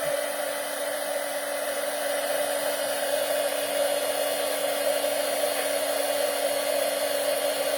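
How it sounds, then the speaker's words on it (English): Constant whooshing blast of a heat tool blowing hot air over a stamping craft project, a steady loud airflow hiss with a faint motor whine, running unbroken throughout. "move this before you start your heat tool, because it will blow everywhere."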